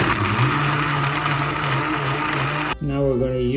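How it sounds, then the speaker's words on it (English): A kitchen blender whirs steadily as it mixes tamarind pulp with water for cooking chicken, a loud continuous motor drone that cuts off abruptly near the end, followed by a voice talking. "lo vamos a mezclar en la batidora para cocinar el pollo"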